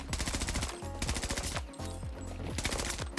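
Rapid automatic fire from a suppressed weapon in Battlefield 2042, loud close bursts of rhythmic shots with brief pauses between volleys and heavy low thumps underneath.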